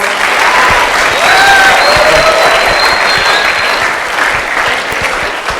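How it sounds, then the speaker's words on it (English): An audience at a school speech event claps loudly and continuously, a dense wash of applause from a crowd filling the room, with faint voices scattered in the background. "one more round of applause"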